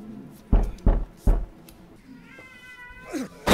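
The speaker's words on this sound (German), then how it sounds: "jetzt hast du die Katzen geweckt" Cats waking up and meowing indoors: a few loud, short calls at a slow rhythm, then a faint, rising whine near the end, heard close by with no talking.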